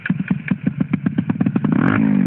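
A motorcycle engine revs in rapid, sharp throttle bursts, about a dozen close pulses, before rising into a sustained higher-pitched whine near the end, loud and close.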